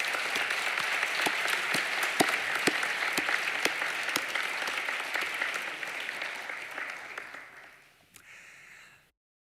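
A crowd claps at a medical school white coat ceremony in sustained, thick applause that holds steady and then thins and fades out near the end.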